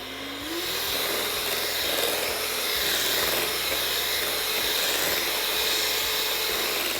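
Electric mixer whirring steadily through cupcake batter flavored with vanilla for buttermilk cupcakes, a continuous broadband motor hiss held at an even level with no talking.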